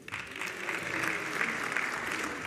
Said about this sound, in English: let's give these gentlemen a round of applause for excellent work